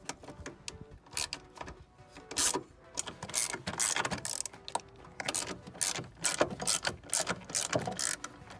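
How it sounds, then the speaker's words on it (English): A 13mm socket ratchet loosens the three top strut bolts on a Mercedes W219 CLS / W211 E-Class air suspension, giving quick, close clicking bursts in an uneven rhythm. "with a 13mm socket I'm going to loosen the 3 bolts on top"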